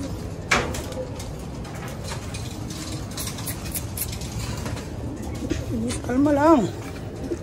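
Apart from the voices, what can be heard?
pigeons in a loft at feeding time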